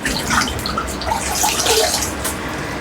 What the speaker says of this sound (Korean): 목 뒤까지의 헤어라인을 충분히 젖을 정도로 꼼꼼히 헹궈줄게요